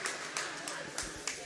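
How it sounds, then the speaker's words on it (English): Crowd in a gym applauding at a girls' high school basketball game between Point Pleasant and Oak Hill in West Virginia, steady dense clapping with a commentator speaking over it. "As the Lilly Center"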